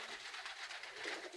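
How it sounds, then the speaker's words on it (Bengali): Mostly white pigeons coo softly in a faint, steady murmur, a brief quiet burst of low cooing with no talking. "তো তোমরা দেখো কবুতরগুলা কিরকম লাগে দেখতে।"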